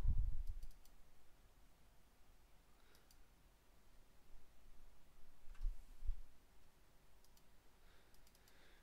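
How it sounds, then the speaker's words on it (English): Computer mouse buttons click at a computer in sparse, faint, short bursts, a few single and double clicks scattered over a quiet room hum. "And double click to access the disassembly"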